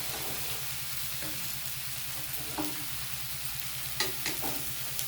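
Chopped spring onion leaves stir-fried in a pan for a Bengali spring onion chorchori, giving a steady close sizzle under a rumbling low hum, with a few scraping stirs and clinks near the end.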